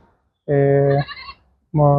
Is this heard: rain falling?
no